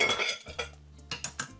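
Lardons going into a pan for a classic coq au vin: metal utensils scrape and clink against cookware, with a low sustained hum beneath and a few sharper knocks near the end, quiet and close.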